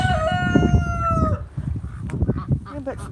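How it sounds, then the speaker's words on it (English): A rooster crows loudly and close by on a rural South Dakota farm, one long drawn-out call, followed by clucking and other fowl noises with a voice talking faintly underneath. "And the rooster came over here."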